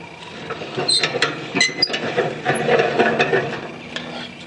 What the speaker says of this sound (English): When you crank this handle to raise this bed up